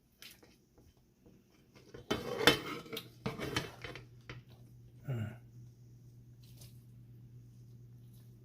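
Vegan meat being flipped in a pan: a clatter of utensil on cookware around the middle, a few scrapes, then a soft sizzle that settles into a steady low hum, fairly quiet overall.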